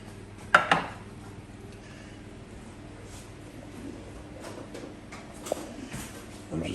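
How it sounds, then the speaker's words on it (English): A wok and other dishes are set into a kitchen sink while making cottage pie, with a sharp metallic clank near the start and a lighter knock later, over quiet kitchen background. "And the wok into the sink for the washing up."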